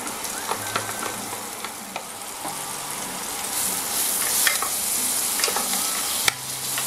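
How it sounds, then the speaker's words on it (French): Onions sizzle and fry in 40 g of butter in a pan, a steady close hiss that swells as they are stirred, with occasional scraping and clinks. "j'ai 40 g de beurre. Et donc je vais y mettre les oignons"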